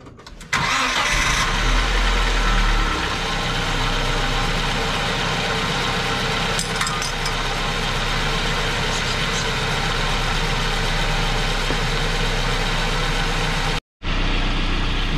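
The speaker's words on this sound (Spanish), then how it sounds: "ahora vamos a encender por unos minutos el carro para que empiece a trabajar y corra bien todo" A Nissan Tsuru car engine cranks and catches, then settles into a steady, loud idle that runs on evenly for many seconds before cutting off abruptly near the end.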